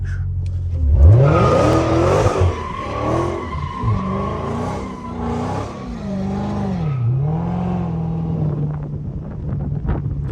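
Dodge Hellcat engine revving and climbing through gears while sliding around corners, loud and close with rising and falling pitch sweeps, shift breaks, and tire squeal mixed in.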